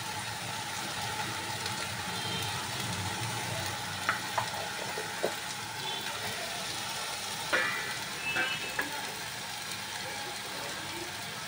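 Spice pastes and ginger paste frying in hot oil, giving a soft, steady sizzle with a few faint clicks of a spoon.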